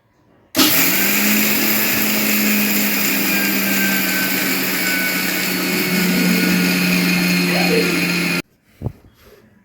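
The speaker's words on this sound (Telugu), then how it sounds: "చట్నీ మిక్సీ పట్టుకుందాం" A mixer grinder grinding chutney whirs loudly and steadily for several seconds, then cuts off abruptly, leaving a few faint clunks.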